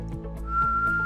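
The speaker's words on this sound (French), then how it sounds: "Tu siffles pour pas pleurer?" A person whistles a steady high note while peeling and finely chopping green papaya in a kitchen, close and clear, with faint low knocks beneath.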